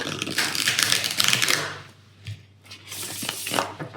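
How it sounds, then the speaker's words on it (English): Tarot cards riffled and mixed by hand in a quick, papery burst of rapid flutters, a short pause, then another brisk round of close shuffling. "First I will reshuffle. Let me mix the cards good."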